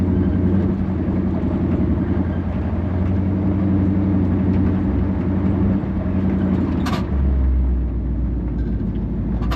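A classic Ford Bronco with a swapped Coyote V8 drives on a test run, engine droning steadily from inside the cab with a brief shift and a revving change near the end.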